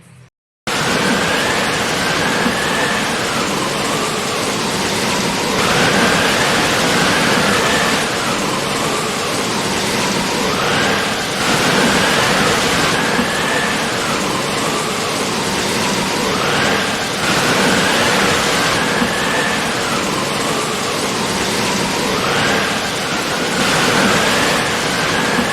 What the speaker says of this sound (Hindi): आज हुआ थे हमारे गांव में पानी गिरा थे